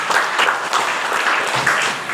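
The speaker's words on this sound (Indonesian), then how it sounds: "Ya tepuk tangan deh untuk predikat yang sudah membaik ini" Audience applause fills a new-student campus orientation event, a dense, steady wash of many hands clapping that holds at an even loudness for the whole stretch.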